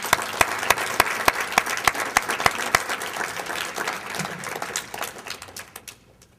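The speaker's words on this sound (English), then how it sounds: "I think we should also give them a round of applause." An audience applauds teachers at the Shearer Perfection Student Contest awards presentation. Sustained clapping from a room full of people, with crisp individual claps standing out early on, gradually thins and fades toward the end.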